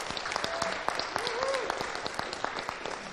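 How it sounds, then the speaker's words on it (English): An audience at a communicators' event claps steadily in a dense burst of applause, fairly close, with a few voices calling out over it. "let's give a big round of applause to Alex"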